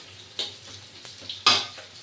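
Potatoes fry in a pan with panch phoron, green chillies and dried red chillies for a vegetarian cabbage dish: a faint, low sizzle broken by a few sharp clinks of a spatula against the pan.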